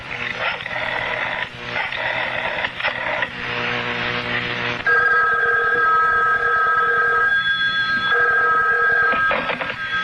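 A telephone rings as a radio drama sound effect, a steady electric bell that rings continuously and loudly, changing tone partway through, with no voices over it.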